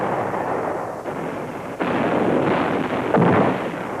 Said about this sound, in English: The North Vietnamese launch a massive artillery attack